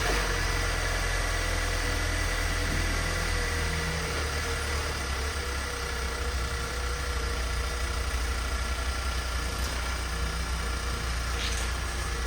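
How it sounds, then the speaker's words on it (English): A wrecked 2022 Ford Explorer idles with a steady, close engine drone and faint vibration, running evenly and uninterrupted throughout. "So let's start this car up and see it drive out."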